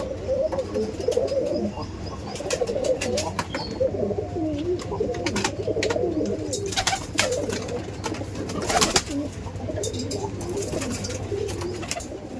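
Kaldam pigeons cooing in a loft, a continuous layered chorus of low rolling coos from several birds nearby, with a few sharp knocks and rustles over a steady low hum.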